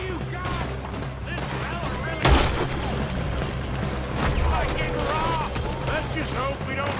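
Gunfire in the Western video game Red Dead Redemption 2, one loud close boom among continuous crackling shots and game noise, with voices talking over it.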